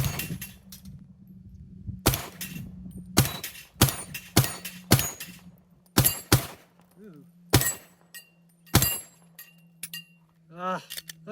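Several sharp gunshots from a Glock 37 pistol firing 230 grain .45 GAP rounds, spaced irregularly and loud and close, with a steady low hum in between and a few chirpy clinks near the end.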